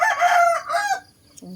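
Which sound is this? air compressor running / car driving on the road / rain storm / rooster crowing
rooster crowing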